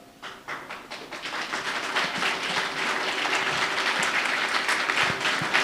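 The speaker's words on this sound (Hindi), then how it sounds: "ताली बजाते रहो भाई" A roomful of people at a training seminar clap their hands. The clapping starts softly, builds within the first couple of seconds and then holds as a steady, fairly loud patter of many hands.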